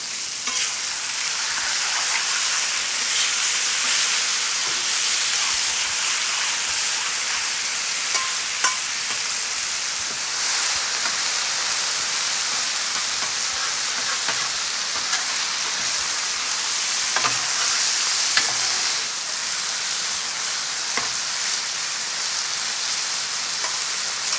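Steady, loud sizzling of marinated chicken for fajitas frying on a hot Blackstone griddle, a continuous hiss with occasional pops and scraping, no voices.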